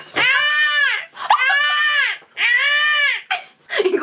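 Someone's voice imitating a newborn baby's crying, three long wailing bursts with short pauses between them, loud and close, followed by brief fragments.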